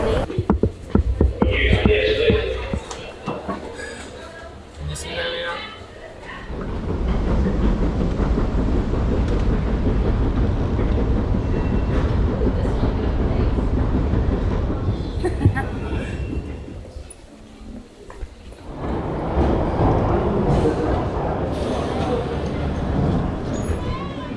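A London Underground train rumbles steadily for a long stretch, loud and close, with people talking over it and the noise dropping away near the end.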